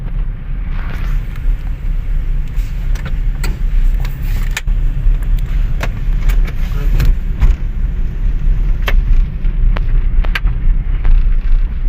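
Car moving forward in first gear during a driving lesson on a village road, a steady low engine and road rumble throughout with occasional clicks and faint voices beneath.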